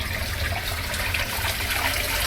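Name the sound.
waste water being released and draining away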